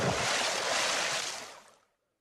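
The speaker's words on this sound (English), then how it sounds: "the friar threw Robin into the cold water" Splash of someone thrown into cold river water, a loud broadband rushing wash that swells at once, holds for about a second and a half, then fades quickly to silence.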